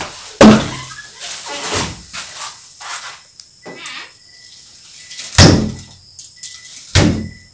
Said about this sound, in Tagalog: Gumalaw yung isang pintuan guys.